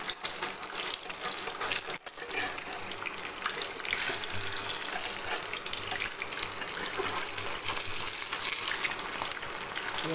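Ridge gourd and egg sizzle in hot frying oil, a steady, dense crackle that continues loudly throughout with a brief clatter near the start.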